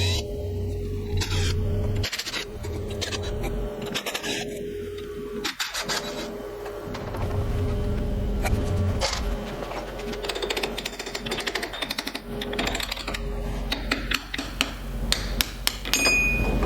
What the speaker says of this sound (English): fold all of my lock tabs down and undo our 6 bolts to remove the intermediate shaft